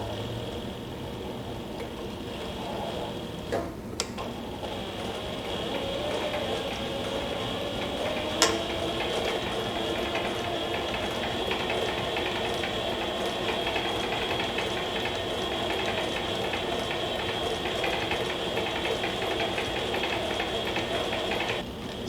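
A Mini Sailrite walking foot sewing machine stitches steadily through thick material with little presser-foot clearance, a continuous close mechanical whir and clatter broken by a couple of sharp clicks near the start.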